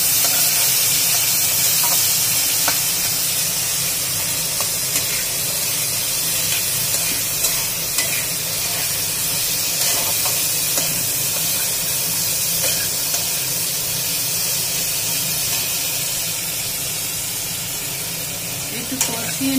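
Spice paste sautéing in a pan for a broccoli and potato curry gives a steady, fairly loud hiss and sizzle that runs throughout without a break.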